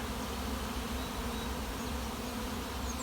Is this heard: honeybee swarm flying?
yes